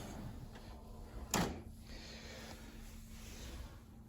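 A drawer on a 72-inch Snap-on Master Series toolbox slides open with one brief rolling scrape in the middle, set against a quiet steady background hum.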